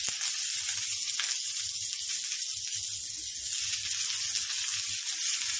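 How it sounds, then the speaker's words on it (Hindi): Steady, close sizzle and hiss of frying in a pan for an egg drop curry, a continuous bright crackle held for several seconds with no talking. "अच्छा इसको फ्राई करने वाली हूँ 4-5 मिनट तक।"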